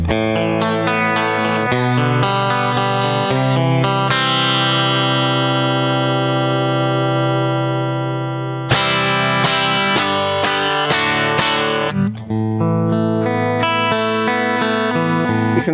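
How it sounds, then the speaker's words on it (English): Electric guitar through a Carl Martin compressor/limiter pedal with compression turned up, sustained chords and single notes held at an even, squashed level, loud and continuous with a sharp re-strike midway. "whatever I'm putting into the compressor now, be it a heavy sound or a low sound, it will always come out on the same level"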